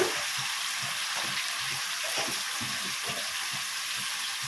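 Chopped tomato pieces fry in a pan with a steady, close, broadband sizzle and soft stirring scrapes throughout, and no talking.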